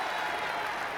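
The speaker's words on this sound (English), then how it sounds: "Crowd getting loud." A college wrestling dual meet crowd between North Dakota State and Northern Iowa roars loudly in an arena as a match nears its end. The cheering is a dense, sustained wash of noise with no distinct voices standing out.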